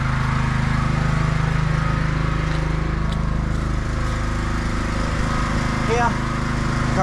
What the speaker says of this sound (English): There's our pressure washer.